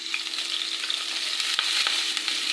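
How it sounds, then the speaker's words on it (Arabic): Onion frying in ghee and a little oil in a pan, a continuous close sizzle with occasional crackles and stirring clicks, no talking. "اول حاجه انا حطيت معلقه سمنه وشويه زيت صغيرين، وهنزل كده البصل على طول."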